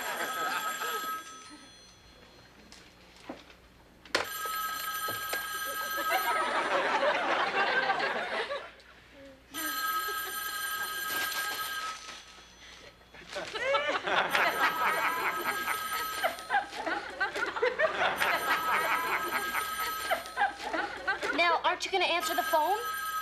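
A telephone bell rings in loud repeated bursts with pauses between them, heard among sitcom dialogue and audience laughter.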